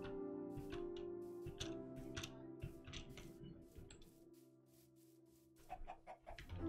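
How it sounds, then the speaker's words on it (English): Minecraft chickens cluck in short bursts among clicking, ticking sounds over a steady low hum, several birds calling irregularly, fairly close. "Ton of chickens and sheep, apparently."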